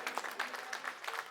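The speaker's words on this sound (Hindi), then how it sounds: "ताली बजा दीजिए इनके लिए जोरदार।" A crowd claps at an Aam Aadmi Party political rally speech in Patparganj, Delhi, a burst of many hands applauding together, close and lively with uneven peaks, briefly and without speech over it.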